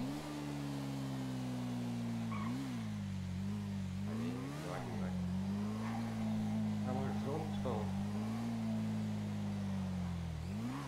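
A motorcycle engine in the video game GTA V revs and drones steadily throughout, its pitch rising and falling with throttle changes, loud and continuous under intermittent game noise.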